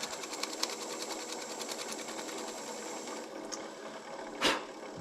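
A cherry wood bowl spins steadily on a lathe while microfine Yorkshire grit is applied, giving a continuous whirring hum with faint scraping and one brief louder rub near the end; no voices.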